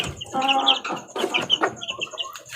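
Hens cluck and chatter nearby in short, irregular bursts, a mother hen among several birds overlapping in busy farmyard calls.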